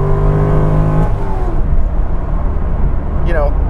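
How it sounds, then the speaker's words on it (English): A C5 Corvette Z06 V8 rolls onto the throttle in third gear, its engine tone rising briefly and then settling back to a quiet cruise, with someone talking over it. "that was just rolling onto it in third, and then now we're a quiet car again"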